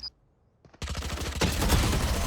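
Gunfire in the tactical shooter Valorant: after a brief quiet with a faint click, a loud, rapid burst of shots rattles continuously to the end.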